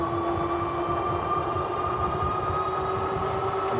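A Senada Saber Pro fat tire e-bike motor under throttle gives off a steady, close electric whine with two sustained tones, riding over low rumbling road and wind noise, with no talking.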